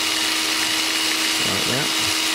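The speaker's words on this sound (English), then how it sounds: "Just kind of work your drill bit back and forth in the center" A power drill whines loudly and steadily while it enlarges a hole for the flex shaft in an NQD RC jet boat hull. A voice briefly breaks through near the end.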